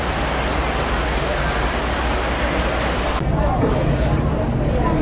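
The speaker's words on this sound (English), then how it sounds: "It wasn't raining and now it is pouring." Heavy rain pours down at the Fort Lauderdale International Boat Show in a dense, constant hiss that swells slightly louder partway through.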